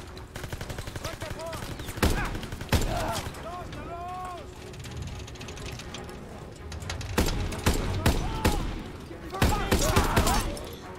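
Gunfire in the World War II shooter video game Call of Duty: WWII, bursts of loud close shots and rapid fire scattered through the battle, with someone talking over the action.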